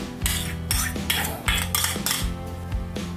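A spoon stirs an igado marinade of soy sauce, liquid seasoning, calamansi juice, minced garlic and black pepper in a container, with rhythmic metallic clinks and scrapes repeating roughly every half second, close and clear.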